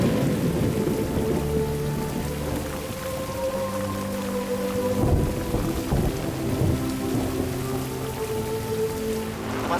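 Steady heavy rain pours down with several low, rolling rumbles of thunder throughout, a dense continuous wash of sound with no voices.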